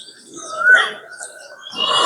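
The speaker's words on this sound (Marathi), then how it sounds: "तिथे कोकिळा बसून खूप छान आवाज काढतात." An Asian koel calls from mango trees outside a balcony, giving faint, distant whistled notes in short bursts against a quiet background.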